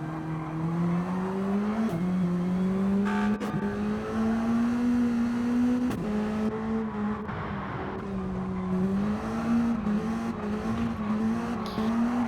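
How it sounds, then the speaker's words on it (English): BAC Mono race car engine heard on board as the driver blips the throttle, a steady droning note that rises and falls in short waves with occasional sharp clicks, loud and continuous without talk. "Dante Corrado, you can hear him playing around with the throttle"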